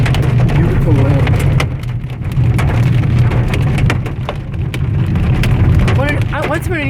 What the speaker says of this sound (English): this cloud is what we're getting all this hail from. And it's still coming down